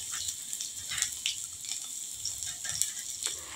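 Crushed garlic hits hot oil with cumin seeds and a red chili for a simple bhindi fry, giving a steady, soft sizzle with faint crackles throughout.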